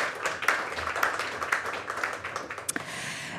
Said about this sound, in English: So a round of applause maybe for our colleague Eloisa Viloria.